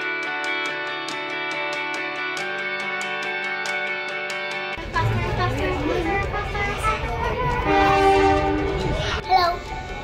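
A tourist train running on the line to Spring Bluff during the Toowoomba Carnival of Flowers. A steady harmonic horn blast with pulsing tones gives way to loud rumbling and clattering carriage noise, and a voice is heard over it.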